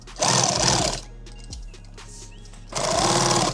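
A sewing machine stitches a mag war bag in two loud, steady bursts, the first about a second long and the second near the end, with a quiet pause between them.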